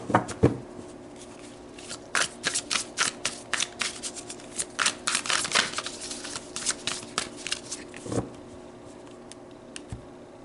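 Tarot cards shuffled and pulled by hand during a reading, with a run of crisp, close riffling and slapping bursts, irregular bunches of flicks and taps, and quiet gaps between them.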